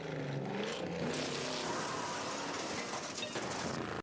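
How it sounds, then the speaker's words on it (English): Car in a video game driving into a character, a loud continuous engine roar and rushing noise with crashing clatter, dense and close throughout, no speech. "So Clover Devil D flattens the boogeyman with his car"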